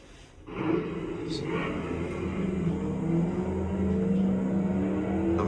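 A V8 car engine revs and rumbles steadily, loud and close, building slightly over several seconds with a faint high whine mixed in.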